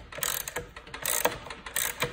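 A wrench ratchets in short bursts while tightening lock nuts on a Ski-Doo Pilot ski carbide runner, close and clicking with brief pauses between strokes, with no talk.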